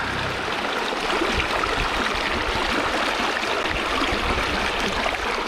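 A rain-swollen stream rushes steadily and loudly, a dense continuous wash of flowing water that holds even from start to finish with no voices.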